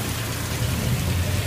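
Steady rain falls in a storm in Smyrna, a constant close hiss with low rumbling underneath, unbroken for the whole stretch and with no voices.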